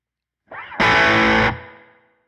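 Electric guitar played through a Tone City Double Durple pedal with both sides engaged gives a thick, distorted chord that rings loudly for under a second, then decays smoothly into quiet, with a softer picked lead-in before it.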